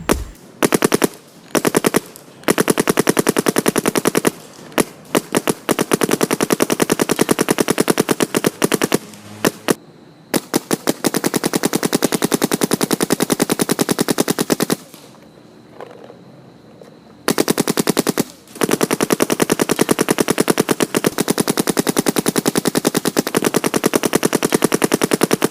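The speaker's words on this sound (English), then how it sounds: "Now it's time to put some rounds through these two." Two Planet Eclipse Gtek paintball markers, a Gtek and a Gtek 160R, fire in long rapid-fire bursts of sharp, closely spaced shots, broken by brief pauses and one longer quiet gap.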